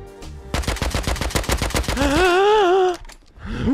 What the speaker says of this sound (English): Where was he even shooting at me from?